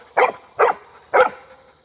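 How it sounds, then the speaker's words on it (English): An impatient dog gives three short, sharp barks, evenly spaced and close, with whiny edges and quiet gaps between them. "is not a very patient dog."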